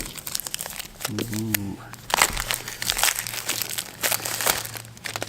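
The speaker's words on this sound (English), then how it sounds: "this right here is a new kit, all shrink wrapped. We'll give her a little slice." A new boxed kit of Armor Shield IX nano ceramic coating has its shrink wrap sliced and peeled away, giving close crinkling and tearing rustles in irregular bursts, while someone talks over it with a short exclamation.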